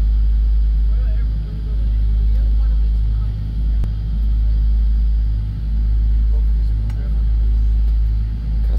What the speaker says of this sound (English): the other sound you hear is the engines, you know, powering up